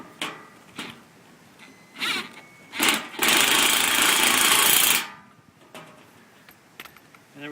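Masonry fasteners driven into stone during an outdoor fire pit install: one sustained loud burst of drilling or driving lasting about two seconds, with shorter bursts before it and quiet gaps between.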